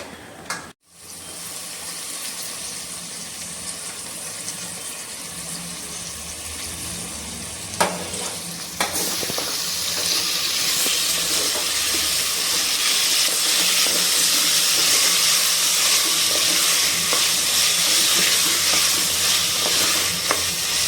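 Tomato goes into a pan of fried onions and ginger garlic paste: a steady sizzle with light stirring clicks, then an abrupt, much louder hissing surge that holds to the end.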